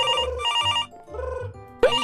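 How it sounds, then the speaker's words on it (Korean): Telephone rings in a Minecraft family roleplay, a loud repeating electronic ringtone in two bursts with a short gap, ending in a sharp click. "이 시간에 누가 전화를 거는 거야?"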